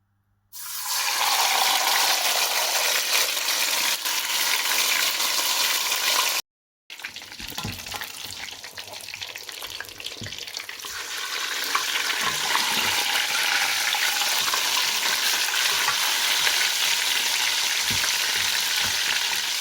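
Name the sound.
chicken frying in hot oil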